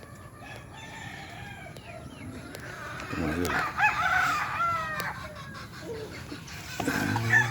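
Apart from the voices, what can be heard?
chickens clucking and rooster crowing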